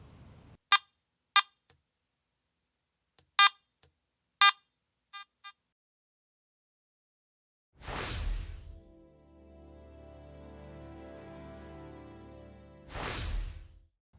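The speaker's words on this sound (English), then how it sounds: "The iron audio feature is recommended in the all metal mode to check targets for iron content." Iron audio tones from an AT Max metal detector in all metal mode: a few sharp separate beeps and a short chirping burst, then a low buzzing grunt between two whooshing sweeps, heard close with no talking.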